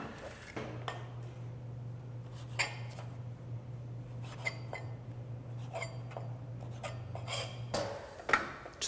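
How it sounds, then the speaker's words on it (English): A knife trims the edges off a citrus peel for a zest garnish: soft scraping and rasping cuts with small clinks against a board, quiet and close over a steady low hum. "So I'm just gonna cut the edges off with a knife."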